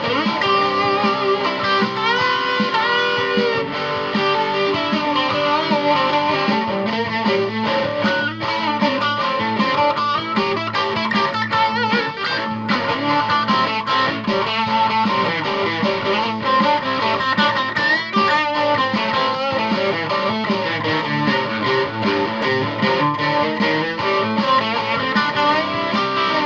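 Distorted electric guitar from an Eastwood Monolith, played continuously with dense sustained chords and notes, loud and close, with no voices over it.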